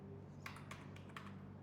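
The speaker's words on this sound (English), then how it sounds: "typing" Quick light keystrokes on a computer keyboard while an email signature is set up in Outlook, a few close clicks in short bursts over a steady low background hum.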